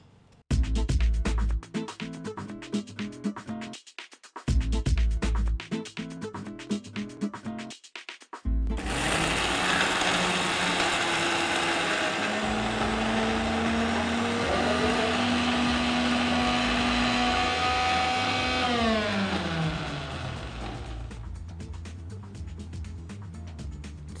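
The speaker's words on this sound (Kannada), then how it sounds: "ನೀರು ಹಾಕಿ ರುಬ್ಬೋದು." A kitchen mixer grinder runs on spices and ingredients with added water, first in short loud stop-start bursts, then as one long continuous whirring grind that slowly winds down near the end.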